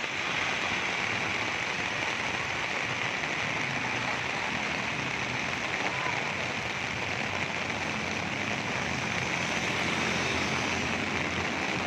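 Heavy rain pours down during a flood in Kuantan, a loud, unbroken hiss of falling water that stays even and constant throughout, with no voices.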